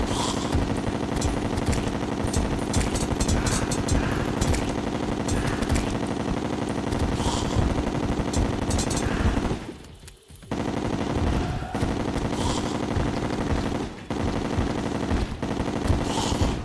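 Chlorophyte bullets firing from a gun in Terraria make dense, rapid automatic gunfire that runs steadily and loudly, breaking off briefly near the middle before resuming.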